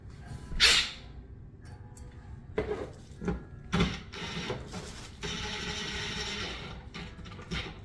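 An impact gun drives screws while a 58-inch TV is mounted on a wall: a few short mechanical bursts, then a longer steady run of driving toward the end, fairly close and with no talk.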